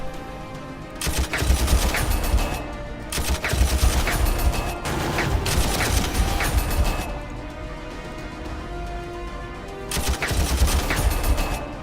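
Sustained bursts of gunfire from the Warhammer 40,000 Armageddon video game: dense, loud rattling volleys run for several seconds at a time with brief lulls between them, and no voices are heard.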